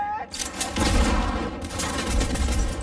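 Sustained gunfire in the video game Cyberpunk 2077, a dense rolling fusillade of close, loud shots running almost unbroken for a few seconds, with brief quieter gaps near the start and middle.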